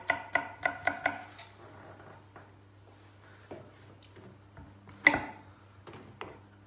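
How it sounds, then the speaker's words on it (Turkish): Knife chopping green pepper on a board: a quick run of four or five sharp cuts at the start, then scattered softer knocks and one louder chop, over a low steady hum. "İki diş de sarımsak doğruyorum. Asıl lezzet sarımsağını en son katacağız. Lezzet vermesi için içine bir tane yeşil biber doğruyorum."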